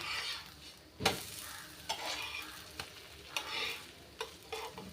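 Fenugreek dosa fries quietly on a pan with a soft continuous sizzle, punctuated by a few light taps and scrapes from a spatula, close and without talk.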